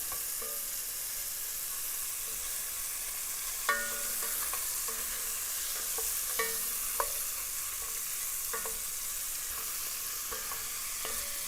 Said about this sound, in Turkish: Şimdi kemiklerin de bir, biraz yağ yüzeyini yakıp suyumun yağlanmasını sağlayacağım.